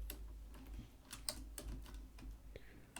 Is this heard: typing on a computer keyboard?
yes